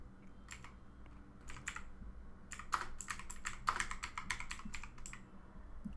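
Keys on a computer keyboard clatter in quick, crisp bursts, starting with a few scattered taps and then a faster run of typing in the middle, close and fairly quiet with no voices.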